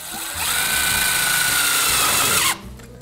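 A power drill drives a self-tapping screw into sheet-metal heating ductwork, making one close, loud, steady whir for about two seconds that cuts off abruptly, followed by faint background noise.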